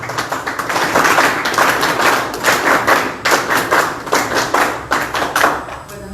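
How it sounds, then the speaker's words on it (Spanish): Audience applause at a political debate on industrialization in Peru, following a call for strong clapping: dense, sustained handclapping from a crowd, loud and steady with rhythmic pulses throughout, no talk over it. "Fuertes palmas, por favor."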